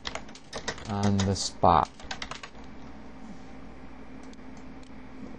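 Quick clicking keystrokes on a computer keyboard as a short caption is typed, with a few clusters of taps near and fairly loud, briefly interrupted by a short spoken phrase.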